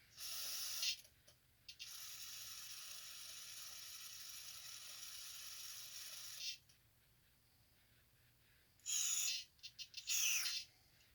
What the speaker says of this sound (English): See if we can spray some carb cleaner on it